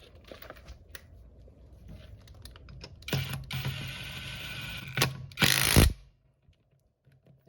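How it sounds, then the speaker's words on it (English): A Hyper Tough 12V cordless impact wrench runs a lug nut back on with a 2 Ah battery: a soft whir starts, then a loud burst of rapid rattling hammering near the close, ending abruptly before quiet. "Now we're going to put the lug nut back on."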